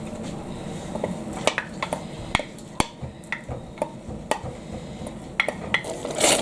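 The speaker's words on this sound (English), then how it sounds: "Stir that all together." A spoon stirs a thick creamed tuna mixture in a pot, giving sharp scraping clinks in an uneven rhythm over a quiet kitchen background.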